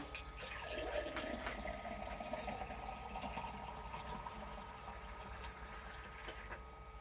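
Cider pours from a tap on an automated home bar, with a steady hiss and a faint motorized pump whir running under the gentle liquid stream into a glass.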